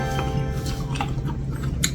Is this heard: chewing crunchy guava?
yes